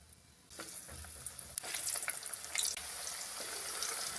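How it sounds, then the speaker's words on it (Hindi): Sliced potato chips hit hot oil and burst into a loud, close sizzle that keeps up a steady frothy crackle for several seconds, with no talking. "ऑयल हमारा गर्म हो गया है। अब इसमें चिप्स डाल लेंगे फ्राई करने के लिए।"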